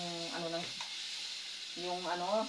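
Taro stems, takway, sautéing in a pan, a soft sizzle with stirring scrapes, partly under a speaking voice at the start and end.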